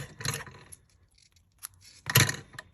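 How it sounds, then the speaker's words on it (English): Scissors snipping through ribbon for a Valentine's craft, two distinct crisp cuts with a short pause between them, close and clear. "here, I'm going to cut it in half."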